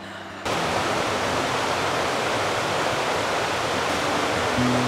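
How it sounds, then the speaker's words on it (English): A river rushes past on a cold early morning, a loud, dense, continuous broadband roar of flowing water that starts abruptly and holds steady throughout, close at hand with no voices. "I am on a walk down to the river."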